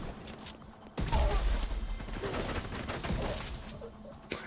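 Gunshots scoring headshots in a video game, a dense clatter of gunfire and mechanical noise that starts abruptly and keeps going at steady loudness, with a sharp crack at the very end.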